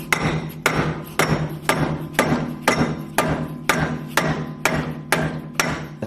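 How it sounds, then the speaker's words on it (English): Hammer striking a bracket on a BMW G30/F90 strut to free it from the chassis, landing about a dozen sharp metallic blows at a steady, even rhythm up close. "you just have to give it a little tap or two to drop it"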